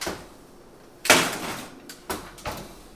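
A door swings open with a loud clunk, then shuts with a couple of quieter knocks and thuds close by.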